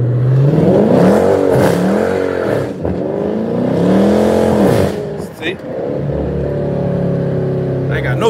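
A Chrysler 300 revs loudly in a burnout, its engine rising and falling in repeated surges close by with a steady roar under the revs, and a brief dip partway through.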